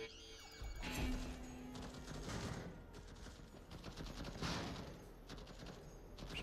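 Gunfire in the video game Deathloop, a dense clattering barrage of shots and crashing impacts that runs steadily for several seconds, loud and close, with no talking.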